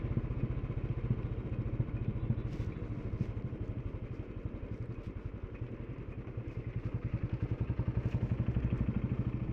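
A motorcycle ridden through hill country, filmed from a camera on the rider's chest, gives a steady close engine drone with a fast rhythmic pulse that swells slightly near the end, with no talk.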